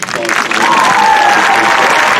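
Full stadium crowd at a high school commencement applauding student speakers, a loud dense wash of clapping that swells and holds steady throughout.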